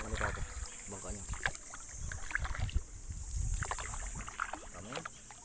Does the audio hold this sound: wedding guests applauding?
no